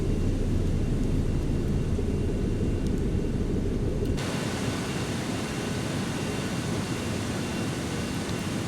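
An Airbus A320 jet in the airport game AirportSim rumbles as a loud, steady broadband engine roar; midway the hiss brightens and thins, as if the aircraft shifts or moves off, with no voices.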